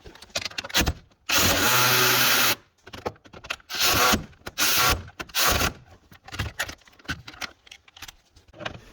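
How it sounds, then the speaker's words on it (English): A power tool spins out three 12 millimeter bolts on the rear strut of a 2009 Toyota Camry: a loud sustained buzz of about a second, then short bursts and rattly metallic clinks and jangles, close by, with no talking. "we're gonna go ahead and take off those 3 12 millimeter bolts"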